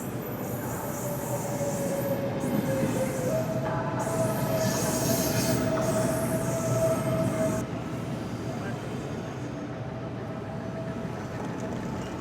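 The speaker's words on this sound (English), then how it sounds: "Oh, here comes our train." An Alfa Pendular train rolling into a station between Porto and Lisbon, a steady heavy rumble with long, high wheel squeal and brake whine layered on top, loud and close.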